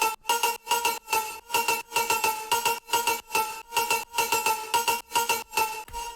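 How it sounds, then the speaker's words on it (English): Bright synth lead from a sampler, part of a drop, hits in rapid rhythmic chopped stabs with strong harmonics, loud and steady on its own with no voices. "We're going to be making this main lead sound that sounds like this."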